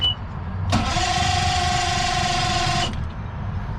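A Mercury outboard boat engine cranks on a new starter without catching, one steady whirring crank lasting about two seconds, loud and close, with quiet before and after.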